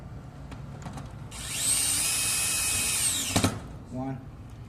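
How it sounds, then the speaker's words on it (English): Power drill driving screws back into a push bar door lock, a steady high whine lasting about two seconds that stops abruptly, followed by a few knocks and a short buzzing burst, with low background noise throughout. "Now what we will do is we will put the screws back."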